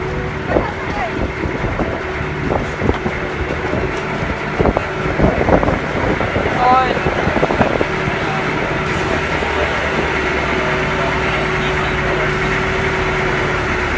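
A boat engine drones steadily while sailing out from a port for island hopping near Malapascua, a constant low rumble mixed with wind buffeting the microphone and people talking over it.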